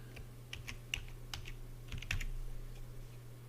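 Keys clicking on a computer keyboard as a family name is typed for stacked-text work, a short irregular run of light taps over a steady low hum, with no talking.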